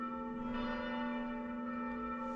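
Church bells ring steadily inside an abandoned church, their sustained tones layered and ringing on throughout without pause, with no voices over them.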